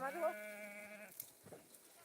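A sheep gives one long, loud wavering bleat near the listener, followed by quieter scuffling and faint background noise.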